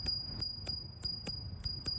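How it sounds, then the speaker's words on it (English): A physical bell on a Segway Max G3 electric scooter rings seven times in quick, fairly even succession, each ding bright, metallic and close, with no talking. "you will find the physical bell"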